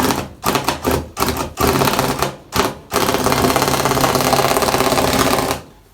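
A tufting gun punches yarn into fabric for a rug, first in short rapid stuttering bursts, then a loud sustained mechanical rattling run, close up with no talking.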